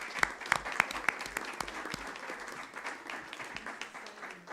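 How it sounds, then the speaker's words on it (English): Applause at a town council meeting, a moderately distant round of clapping from a small crowd with sharper claps near the start, then tapering off. "Double applause."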